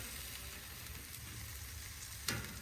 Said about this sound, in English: They're sizzling up.